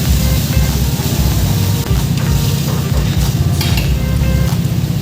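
Ginger, garlic and chopped green chili frying in refined oil in a pan, a steady dense sizzle with stirring and scraping throughout, loud and close with no talk.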